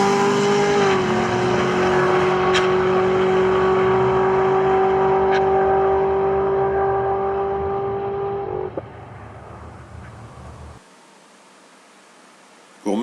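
A car pulls steadily in fourth gear during an acceleration test, its engine drone holding a strong, even tone for several seconds before dropping away into near silence at the end.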